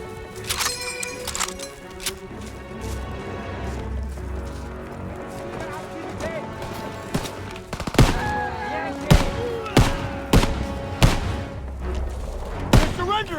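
Rapid rifle and machine-gun fire cracks through a World War II battle in Call of Duty WW2, with sharp repeated shots growing louder and denser toward the end over ambient battlefield noise and shouted voices.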